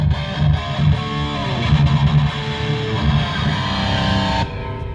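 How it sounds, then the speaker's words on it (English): An electric guitar plays a distorted rhythm part through a Marshall JCM 800 amp with a tube screamer pedal and a little reverb, with chugging palm-muted chords and short ringing notes, close and loud, and no talking. "Marshall JCM 800 with a tube screamer and a little bit of reverb."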